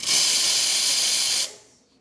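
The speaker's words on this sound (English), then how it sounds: "Very strong steam." A loud, forceful steam hiss from a Quickmill Andreja espresso machine steam wand blasts for about a second and a half, then cuts off and leaves a quiet fading tail.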